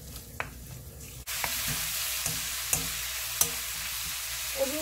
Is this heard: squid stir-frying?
yes